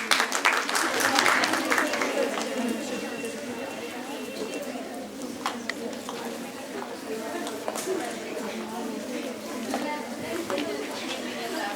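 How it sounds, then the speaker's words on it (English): A roomful of people clapping for a student's correct quiz answer at a college business event, a dense, steady patter of hands that peaks early and then thins but keeps going, with crowd chatter mixed in. "Give her a big round of applause"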